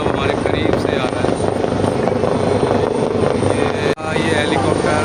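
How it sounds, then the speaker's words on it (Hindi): A helicopter arrives and lands at a political rally in Kotdwar, making a loud, close, continuous rotor-and-engine roar throughout. Voices and crowd noise mix in beneath it. "ये हेलीकॉप्टर देखिए आप"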